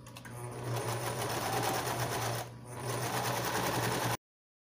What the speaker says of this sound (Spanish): Aquí voy a costurar los lados de la batita a